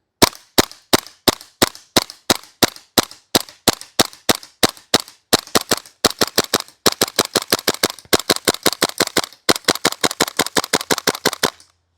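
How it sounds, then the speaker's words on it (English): A KWA Tac-9 airsoft gas pistol fires BBs in a long run of sharp, loud, close cracks, first spaced semi-auto shots and then faster rapid bursts, until the magazine empties. "we're going to see how many full mags of BBs we can get through on the single gas fill"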